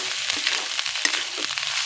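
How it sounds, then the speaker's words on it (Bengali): Shrimp frying in a pan with garlic paste, a dense, steady hiss and crackle of hot oil sizzling close up, with faint stirring, and no talk. "এবার চিংড়ি মাছটা দিয়ে দিচ্ছি।"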